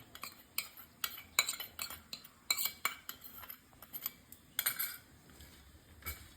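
Boiled drumsticks are mixed by hand with salt and ginger-garlic paste, making a soft, steady run of close utensil clinks and scrapes against the dish, irregular and fairly quiet, with no talk.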